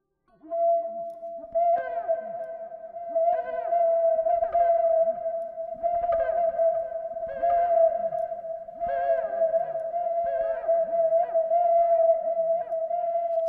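A Native American flute imitating whale calls, a sustained wavering tone with swooping, bending notes repeated in phrases, heavily echoed and played alone at moderate volume.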